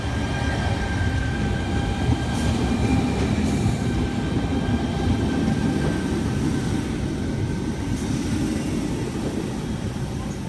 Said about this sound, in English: Tangara sets T28 and T35 now departing Epping service